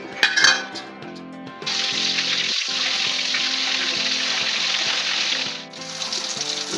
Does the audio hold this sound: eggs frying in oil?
yes